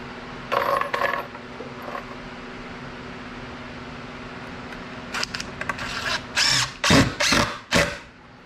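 Metallic rattling and clinking of a drywall screw among beekeeping gear, a few light taps early, then a run of louder jangling shakes near the end, close and crisp.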